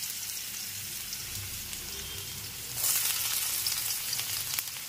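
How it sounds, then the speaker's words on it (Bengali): Potato pieces fry in hot oil in a wok, a steady close sizzling hiss that swells louder partway through, as if more pieces hit the oil, with no one speaking. "হ্যাঁ, তেল গরম হয়ে গেছে, আলু পটল ভাজা করব। প্রথমে আলুগুলো ছেড়ে দিলাম তেলের মধ্যে"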